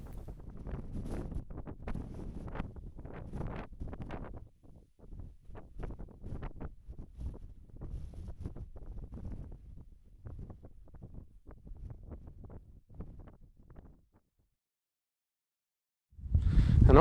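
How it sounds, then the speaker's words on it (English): Gusty wind buffeting across open farm fields, rough low rumbling bursts that rise and fall irregularly, dropping to near silence briefly before a strong gust returns at the end. "it's a windy day today"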